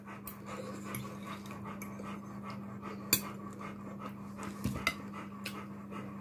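A dog pants steadily just after returning from a walk, a soft rhythmic breathing close by over a low steady hum, with a few louder clicks and bumps.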